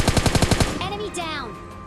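Rapid gunfire in the video game PUBG Mobile Lite, a quick burst of about seven close shots in the first second, followed by fading echoes and game effects.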